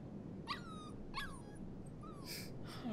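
A dog whimpers in the video game Life Is Strange 2, giving several thin, rising whines in short bursts at low volume over a quiet background, with no speech.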